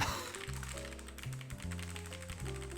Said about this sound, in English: the keycap itself is a very light press until you hit that tactile bump, and then it's actually quite firm